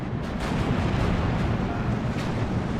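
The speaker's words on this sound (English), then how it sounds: "My artillery going to continue to fall on these M8 Cavs" Artillery barrage in the World War II strategy game Steel Division, a dense rumbling roar of overlapping booms and explosions with low thuds pulsing through a short, loud, continuous stretch.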